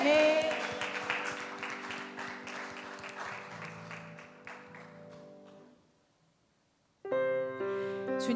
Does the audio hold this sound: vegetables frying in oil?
no